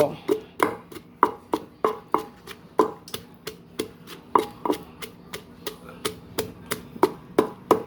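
Chilies and garlic pounded in a mortar for Thai papaya salad: a steady run of sharp, hollow thuds, about three per second, close and fairly loud, with a faint voice in the background.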